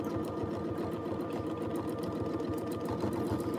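A sewing machine free-motion quilting a feather spine runs at a steady pace, a close, continuous rhythmic stitching chatter with an even pulsing beat across the whole stretch.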